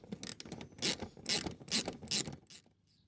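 Ratchet spinning out bumper bolts on a Vauxhall Corsa D, a run of close, quick clicking bursts in a steady rhythm with short pauses between strokes.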